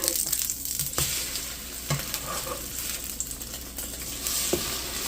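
Slices of French toast fry in oil, crackling in a busy, even sizzle with several distinct clacks and taps as the pieces are flipped.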